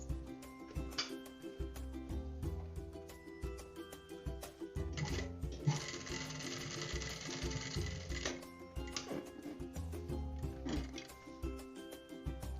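A sewing machine stitches a skirt waistband 1 cm from the edge, running in steady mechanical bursts with a continuous whirring stretch in the middle, close and fairly loud with no talk over it.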